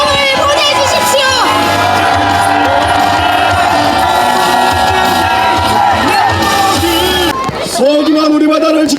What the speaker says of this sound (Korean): 여수 시민 여러분 뜨거운 박수와 함성을 보내주십시오